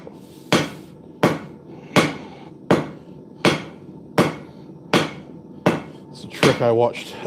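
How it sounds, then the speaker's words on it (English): A hammer forges a graver blank, its edge drawing out the length with eight sharp, evenly spaced strikes close by, each ringing briefly before the next; a short squeaky scrape follows the last blow. "Just using the edge of the hammer to draw out the length a little."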